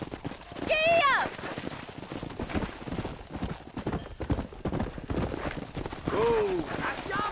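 Horse hooves galloping in the Western video game Red Dead Redemption, a steady clip-clop rhythm with two whinnies, under a voice talking.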